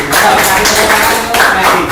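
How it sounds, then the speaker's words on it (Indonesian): An audience claps in a brief burst at a community meeting on new pandemic-era habits, with a voice talking over the applause. "Tepuk tangan Mas Haji."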